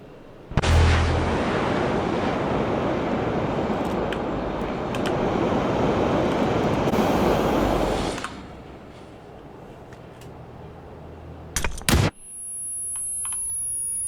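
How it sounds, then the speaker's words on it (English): A grenade goes off in the battle royale shooter PUBG: a sharp, loud blast opens into a long, roaring, broadband rumble that drains away after about eight seconds. A couple of brief cracks follow near the end. "I want to see what that grenade did."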